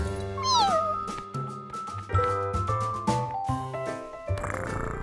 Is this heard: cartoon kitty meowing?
yes